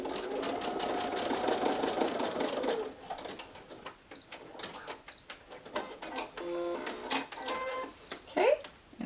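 A sewing machine backstitches through several layers of fabric for a headband, running steadily for a few seconds up close before giving way to clicks and handling noises, with a voice talking over it.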